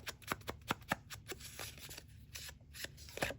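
Scissors snip the edges off paper in a quick series of crisp, close cuts with faint rustling between them, fairly quiet.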